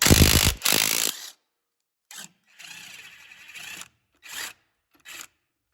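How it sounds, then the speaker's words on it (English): On a 2005 Lexus ES330, a power tool with a long extension loosens an engine mount bolt in short bursts, first loud, then a longer quieter run and two brief whirs, separated by silence. "So I got a nice long extension on there to get that bolt loose."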